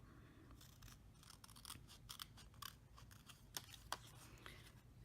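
Scissors snip through embossed paper for a Christmas packaging project, a series of faint, close crisp cuts and rustles repeating irregularly over a low background hum.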